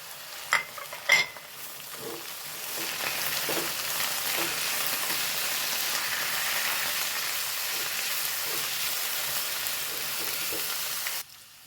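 Potatoes fry in coconut oil, a close, continuous sizzle and crackle under occasional stirring and scraping, with a few sharp knocks at the start and an abrupt stop at the end; no one speaks.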